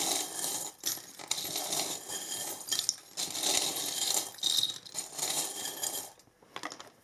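Small metal charms jingle and clink as they are shuffled, with one tiny charm dropping out amid the steady jangling close by, no talking.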